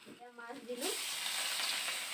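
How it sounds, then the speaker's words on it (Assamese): Four pieces of shol fish, coated in turmeric and salt, hit hot oil and burst into a loud, steady, close sizzle right after a brief spoken phrase. "তেলতে মাছ দি আছো 4 পিচ দি লৈছো"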